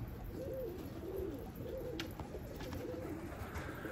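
Soft repeated cooing from a tumbler pigeon, several rolling coos in a row at moderate distance over a steady background hiss.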